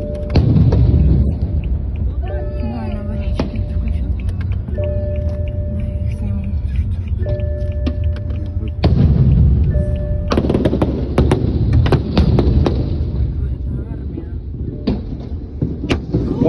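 Several sharp, loud gunshots from police in Belarus crack out over a rumbling car engine and tense voices, spread irregularly through the stretch with a heavy burst near the start.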